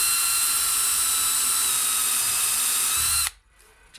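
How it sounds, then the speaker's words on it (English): A power drill bores a screw hole during a Singer 401a sewing machine motor upgrade, whining steadily and close for about three seconds before cutting off abruptly into near quiet. "And I'm just going to take my drill."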